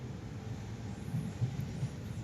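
A Mumbai local train rumbles past at Goregaon as a steady low, muffled roar of wheels and carriages. It is fairly faint and even, with slight swells in the middle.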